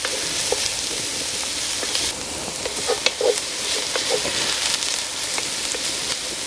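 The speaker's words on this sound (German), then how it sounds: "Dann braten wir jetzt nämlich als allererstes unsere Zwiebeln an." Onions sizzling and frying in a pot over an open fire outdoors, a steady loud crackle and hiss with occasional stirring scrapes, continuous and close.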